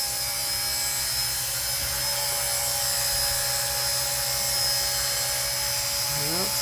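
An RC ERA Huey model helicopter hovers while lifting a heavy load, its rotor and motor giving a loud, steady whine and roar that runs the whole way through with little change in pitch.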